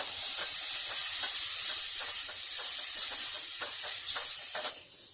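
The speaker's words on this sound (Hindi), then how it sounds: "वो पूरा डाल देंगे। और उसको मेल्ट होने देंगे अच्छे से" Butter sizzling steadily as it melts in a pan with a little oil, a constant bright hiss with faint scraping ticks scattered through, no voices.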